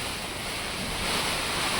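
Strong wind roars steadily during a storm in Odisha, with a dense, surf-like rushing wash that holds at a constant loud level throughout, with no voices.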